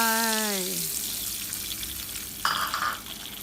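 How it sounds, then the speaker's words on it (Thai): Eggs are dropped into melted butter in a hot pan and sizzle steadily at close range. A brief higher tone fades at the start, and a short clatter follows later over the frying. "พอเนยละลายดีแล้ว ใส่ ไข่ลงไปเลยจ้า"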